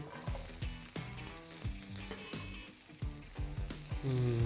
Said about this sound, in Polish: Jalapeno ląduje na patelni.